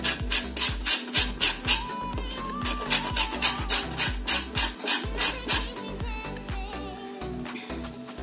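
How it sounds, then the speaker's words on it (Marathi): Lemon peel rubbed against a kitchen grater for plum cake, a quick series of rhythmic rasping strokes, close and crisp, pausing briefly partway through, with no talking. "हे बघा मी थोडं थोडंसं घासून घेते सफेद भाग नाही घ्यायचा फक्त येलो भाग असा आपण घेणार आहोत त्याचा।"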